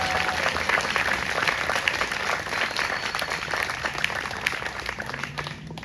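Steady, dense applause from a concert audience at a community band performance, sustained for several seconds without a break.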